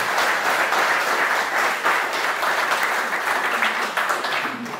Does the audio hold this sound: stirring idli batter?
no